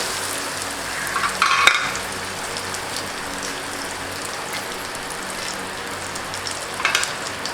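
Chopped small onions frying in a pan with a steady crackling sizzle throughout, a couple of brighter spatters and a stirring clink partway through.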